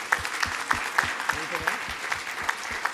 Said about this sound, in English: Let's give all of our sponsors a round of applause.